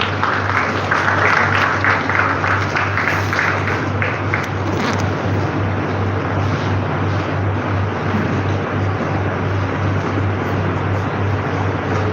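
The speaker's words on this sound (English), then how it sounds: "A huge round of applause for them." Audience applause at a school event, steady broad clapping that runs loud and continuous for the whole stretch with a constant low hum beneath it.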